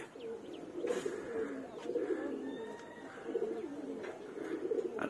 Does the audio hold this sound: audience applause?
no